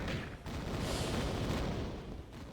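An enemy blows up in the 1996 Tomb Raider video game, a dense, sustained rumbling blast filling the whole stretch at steady loudness, with no voices over it.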